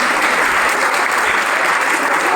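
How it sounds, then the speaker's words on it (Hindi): Dense, loud applause from an audience at a students' felicitation ceremony at a coaching centre, steady, thick clapping throughout with no voices. "एक बार जोरदार ताली बजाएं"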